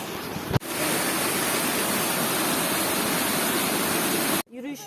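A waterfall beside a highland hiking trail roars as a loud, steady rush of water, nearby and continuous, with a brief break at the start and the end.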